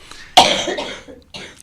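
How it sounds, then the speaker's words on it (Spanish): A person coughs sharply and loudly up close, followed by a few weaker coughs trailing off and another short burst at the end, in an otherwise quiet room. "¿Estás bien de la tos?"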